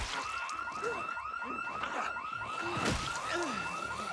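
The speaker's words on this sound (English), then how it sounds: "Starting off strong with 17 house alarms." Many house alarms wail together in the Project Zomboid zombie survival game, a dense layered chorus of repeating rising electronic siren tones sounding continuously with no talk.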